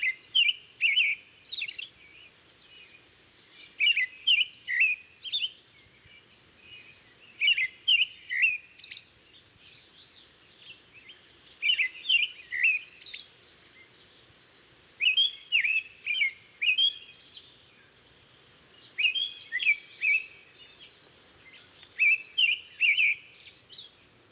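Repeated short bouts of clear, whistled American robin song, each phrase a few seconds of rising and falling caroled notes, separated by brief pauses and heard alone at moderate distance.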